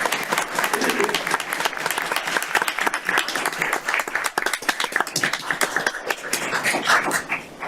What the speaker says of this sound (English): We're going to do a round of applause for you